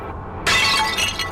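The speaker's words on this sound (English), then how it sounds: "Ready to make that breaking glass sound effect noise?" A sudden crash of shattering glass breaks in after a short low hum, a bright scattering burst that keeps tinkling and rattling for nearly a second, loud and alone without any talk.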